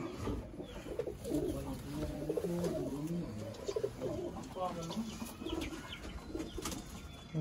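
Sialkoti breeder pigeons cooing in a loft, a steady run of low, throaty, rolling coos overlapping one another at close range, with faint wing flutters and some human voices murmuring in the background.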